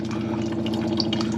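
Water running and dripping steadily from the fuel system of a 1UZ V8 boat engine, a continuous close, wet trickle with no talk over it.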